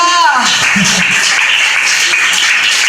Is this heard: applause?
yes